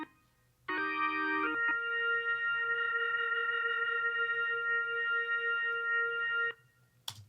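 A soloed organ part from a country song plays alone: a short chord change, then one long held chord sustaining evenly for several seconds before cutting off, with no talk.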